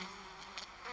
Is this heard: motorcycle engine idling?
no